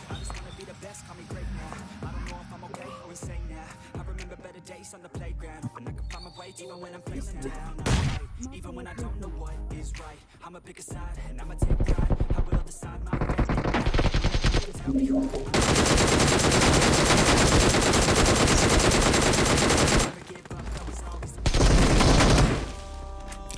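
BGMI mobile battle royale gameplay with rapid bursts of gunfire, starting with spaced single shots and building to long dense automatic volleys that come in loud stretches broken by short pauses.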